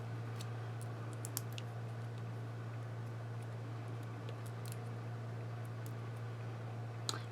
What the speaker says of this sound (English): If you hear that noise running in the background, it's my heater in my craft room